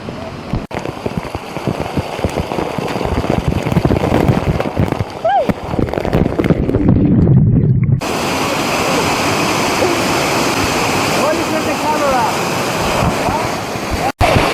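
A waterfall in Bonito, Brazil rushes as a loud, continuous roar of falling water with wind buffeting the microphone, shifting abruptly midway to a steadier, closer wash of water.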